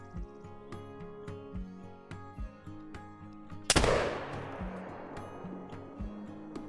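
A single loud muzzleloader rifle shot cracks out in the hunting game Call of the Wild, aimed at a buck, and rolls into a long fading echo over soft ambient game sounds.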